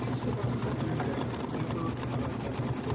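Sewing machine stitching a Kimberbell Christmas embroidery quilt block, a steady close whirring hum with rapid needle chatter running continuously throughout.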